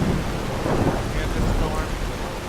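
Rain and a thunderstorm rumble in the Skyrim video game, with heavy rain hiss and low thunder rolling continuously and loudly throughout, no talk.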